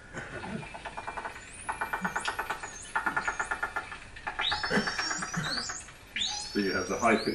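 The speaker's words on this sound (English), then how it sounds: "The high-pitched whistles, but also the sort of clacking sound is their echolocation" Underwater recording of bottlenose dolphins off the east coast of Scotland: rapid trains of echolocation clicks in repeated bursts, with rising and falling high-pitched whistles overlapping toward the end.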